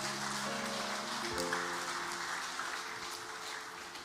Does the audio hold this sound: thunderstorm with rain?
no